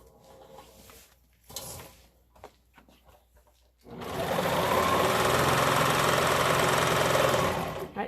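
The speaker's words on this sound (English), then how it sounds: "and then I'll serge the 2 sides" A serger sewing machine runs steadily for about four seconds, a loud continuous whirring hum as it stitches along the edge of an Olson fabric face mask, after quieter handling clatter.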